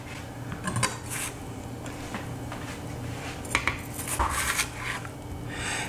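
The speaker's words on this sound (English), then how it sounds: "I am gonna cut up one onion" A knife cuts up an onion on a board: quiet, scattered taps and scrapes of the blade come unevenly over a low background hum, faint and close.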